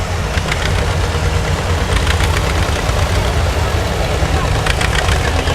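A plow-equipped garden tractor with a gutted muffler runs at Hamby Farm in Jersey, Georgia, giving off a continuous loud, rough engine rumble with a knocking, pulsing low end.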